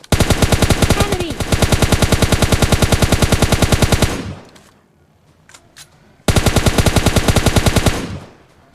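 Sustained automatic gunfire from a battle royale video game, two long bursts of rapid evenly spaced shots separated by a quieter gap with faint scattered sounds, loud and close.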